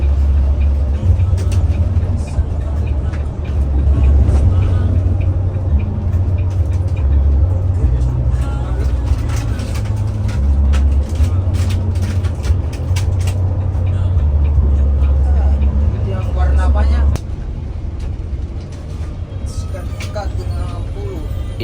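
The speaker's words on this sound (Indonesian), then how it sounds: "masih lumayan rame kendaraan" Road traffic passes outside a moving bus in Pangkep Regency, South Sulawesi, with a steady loud engine drone and road rumble throughout that eases slightly near the end.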